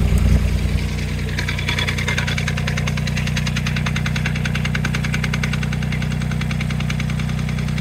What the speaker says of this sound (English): the tractor's at idle right now